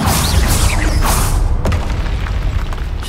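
Confringo blasting spell explosions in the Hogwarts Legacy video game, a loud, dense rumbling boom with crackling bursts that rolls on continuously, a sharp impact hitting midway through the heavy low roar.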